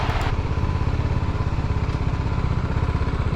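A BMW G310 GS motorcycle's single-cylinder engine idles close by, giving a steady, fast, chugging exhaust pulse throughout, with no voices.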